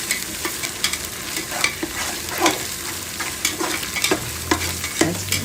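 Ginger garlic paste frying in a pan for vegetable rice, a bright continuous sizzle broken by repeated scraping stirs of a spoon against the pan.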